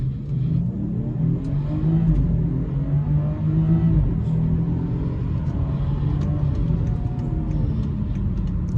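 BMW 540i xDrive accelerating hard, a deep steady engine rumble with rising drone heard from inside the car, loud and continuous.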